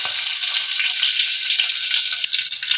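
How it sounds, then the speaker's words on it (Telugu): Chopped onion sizzles in hot oil with a tempering of chana dal, mustard seeds, cumin and a broken dried red chili, giving a steady, close, dense crackle that runs unbroken with no voices. "ఉల్లిపాయ గోల్డ్ కలర్ వచ్చే వరకు వేగనివ్వాలి."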